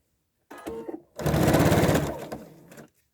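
A sewing machine stitches silk-satin ribbon into a scrunchie, a steady close run of needle strokes lasting under two seconds after a brief start-and-stop burst, with no talking.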